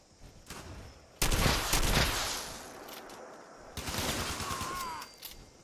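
Incoming gunfire hits the player in Fallout 76. Two loud bursts of shots are each followed by rumbling decay over a quieter background.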